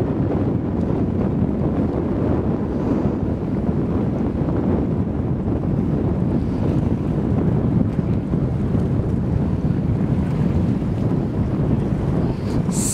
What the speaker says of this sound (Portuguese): Nossa, tá ventando, velho.